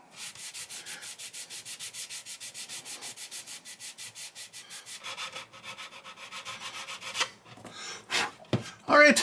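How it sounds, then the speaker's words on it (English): Putty on a model U.S.S. Reliant starship hull is sanded with fast, rhythmic rubbing strokes close up, followed by a few scattered handling knocks and rustles at the end. "And sanding."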